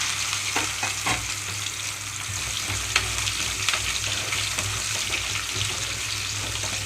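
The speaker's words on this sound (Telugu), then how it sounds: "ఆవాలంతా అనేటప్పుడే కాకరకాయ ముక్కలన్నీ ఇందులోకి వేస్తున్నాను" Bitter gourd pieces fry in oil with mustard and cumin seeds for kakarakaya karam, a steady close sizzling hiss with occasional pops and stirring clicks, fairly quiet and without talk.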